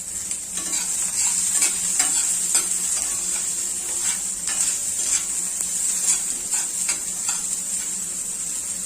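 Garlic, ginger and a green chili sizzle steadily in a hot pan, with repeated scraping stir strokes cutting through the constant frying hiss, close and fairly loud with no voices.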